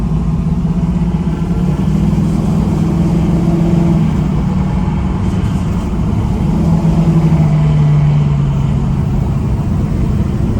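A 1973 F-body Camaro or Firebird with a swapped LQ4 6.0 LS V8 pulls hard in first gear, its loud, steady engine drone heard from inside the car and filling the whole stretch with no talk over it.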